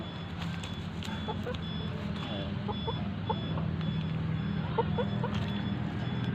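A fighting cock clucks in repeated short bursts, nearby and moderately loud, over a constant background hum with a faint electronic beep pulsing throughout.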